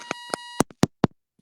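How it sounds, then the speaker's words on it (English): A few sharp electronic beeps, the first two with a ringing tonal edge, followed by shorter chirps, spaced unevenly in a quiet background. "Something was beeping."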